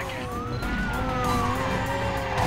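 A police car siren in the Need for Speed Carbon video game wails with rising and falling tones over the steady drone of car engines during a chase.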